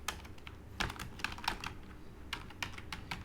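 Close-up computer keyboard typing as a shell command is entered, a series of crisp key taps in short irregular runs over a steady background hiss, with no speech.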